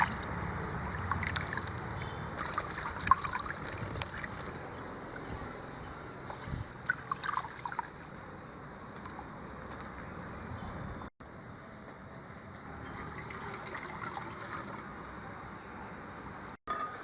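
Rice being washed by hand in water in a home kitchen, with soft sloshing, trickling and swirling water sounds throughout, close and moderately loud with brief pauses.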